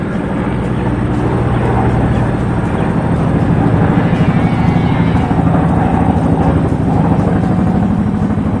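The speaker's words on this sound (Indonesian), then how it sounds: "Pesawat itu terbang sangat rendah di atas sungai." A cartoon aircraft flying low over a river, a loud, steady droning engine with a throbbing buzz that holds throughout.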